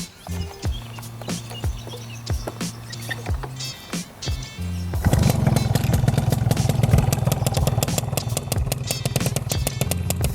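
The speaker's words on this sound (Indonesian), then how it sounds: "kita coba bagaimana suara si Yamaha Alfa ini" A small Yamaha Alfa II R motorcycle engine, without an underslung exhaust fitted, is kicked or cranked with clattering sputters, then catches and idles with a rapid, dry, rattly putter up close.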